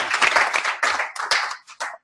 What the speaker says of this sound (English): So I think a round of applause is,